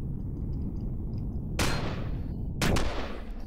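Two sharp gunshots, about a second apart, crack out over a constant low droning rumble in the video game Empyrion Galactic Survival.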